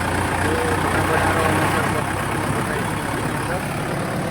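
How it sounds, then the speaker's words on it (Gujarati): A tractor engine runs with a low, steady rumble while heading out toward a river, loud and near, holding an even drone throughout without any pitch rise. "તો અમે હવે ટ્રેક્ટર લઈને નીકળી ગયા છીએ."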